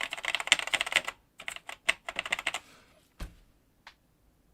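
Someone types on a mechanical keyboard with MX Black switches, giving bursts of loud, clacky keystrokes in quick clusters close up. A pause follows, then a single heavy thunk and a faint click.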